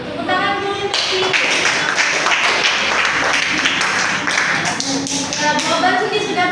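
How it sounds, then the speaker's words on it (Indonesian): Classroom applause during a microteaching lesson, a dense burst of many hands clapping that starts after about one second and continues steadily to the end, fairly loud and close. "Tepuk tangan dulu untuk Siti"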